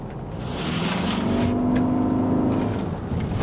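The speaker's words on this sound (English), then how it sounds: "the gas kicks on, and it gives you a more sporty ride" The gas engine of a 2010 Ford Fusion Hybrid comes on under acceleration, a steady moderate hum and drone with a faint rising tone heard from inside the car, with no talking.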